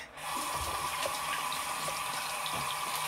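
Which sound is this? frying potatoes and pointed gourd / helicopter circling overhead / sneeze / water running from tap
water running from tap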